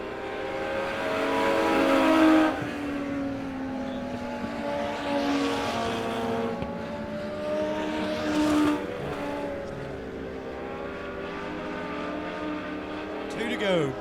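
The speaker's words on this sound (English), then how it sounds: "We got 3 to go for the Hillbilly Archery Legends cars." Legends race cars roar around the Monett Motor Speedway oval during a weekly race, several engines droning and rising and falling in pitch as they pass, with an announcer talking over them.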